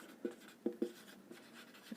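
Chalk or marker strokes on a board during a physics lesson on reflection of light, a few short scraping taps in quick succession, faint and close in a quiet room.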